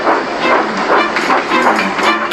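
Thomas the steam engine steams grandly away, a loud, continuous rushing chuff with a faintly rhythmic rail clatter running throughout.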